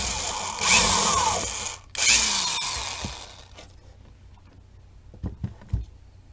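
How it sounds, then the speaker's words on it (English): A power drill whirs in two short, close bursts while re-drilling a small snap hole in a leather mini revolver holster, then quiet handling clicks follow. "This little hole was too small, so I'm going to re-drill it right now."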